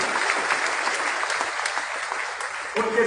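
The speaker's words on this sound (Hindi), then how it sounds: "गांव के लोगों के लिए तालियां बजाओ सबसे ज्यादा" A crowd at a tribal council rally in Nagpur, Maharashtra claps in sustained, dense applause at close to moderate distance, with a voice cutting in at the very end.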